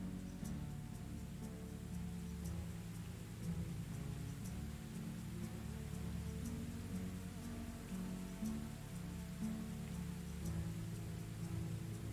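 Steady rain falls in the medieval village life game Medieval Dynasty, a constant soft patter with no talk, with faint thunder-like rumble beneath and a few light tonal game sounds.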